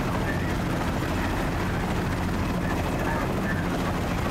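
A helicopter in Battlefield: Bad Company gives off a loud, continuous rotor roar and engine drone throughout, close and unbroken, with faint voices under it.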